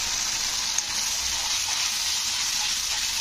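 Ginger paste fries with tomatoes in a pan for a vegetarian flour dish, giving a continuous bright sizzle that stays even and close throughout, with no voices.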